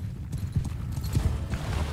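Horse hooves clip-clop in quick, uneven beats in the medieval battle game Mount & Blade 2: Bannerlord, close and fairly loud, lasting only a brief moment with no talk.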